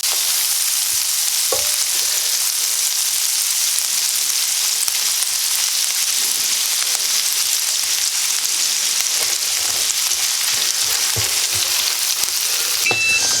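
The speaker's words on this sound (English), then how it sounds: "we're going to get this sausage all broken up and cooked" Italian sausage sizzles and fries in a pan while being broken up, a steady hiss of frying with occasional scraping and stirring clicks, close and continuous.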